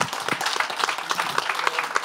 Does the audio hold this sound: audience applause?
yes